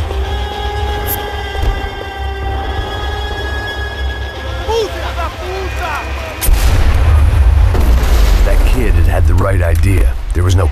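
Gunfire bouncing off a vehicle in Max Payne 3, loud and close, with heavy rumbling bursts and ringing metallic impacts under music and shouting voices.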